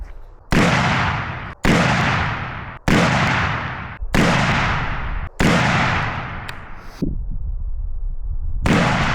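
Loud, close rifle shots are fired without a suppressor, each sharp crack ringing out with a long decaying echo. Six evenly spaced blasts come from a shooting range, and a final shot follows after a short pause.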